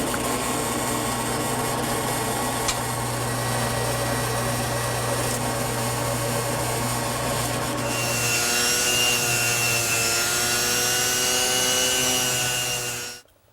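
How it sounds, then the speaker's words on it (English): A steady, close drill bit boring a hole into a wooden side chair rail, a continuous grinding whir that shifts pitch partway through and cuts off abruptly at the end. "So I have to install a shim and move it until the bit is absolutely perpendicular. Then I can drill the hole."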